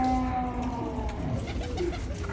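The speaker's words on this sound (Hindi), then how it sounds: "ये जा रहा है कबूतर" A pigeon coos in a low, rolling call that carries on steadily for a couple of seconds, loud and close, with a faint rustle as it takes off.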